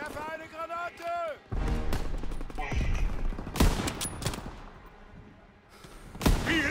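Gunfire from the video game Call of Duty WWII: bursts of shots, thuds and explosions with a firing rate that varies, set under someone talking over the game.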